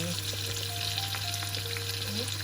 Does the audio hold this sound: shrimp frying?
yes